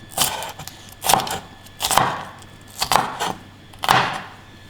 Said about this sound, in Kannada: ಸ್ವಲ್ಪ ಕ್ಯಾಪ್ಸಿಕಮ್ನ ಕಟ್ ಮಾಡ್ತಾ ಇದ್ದೀನಿ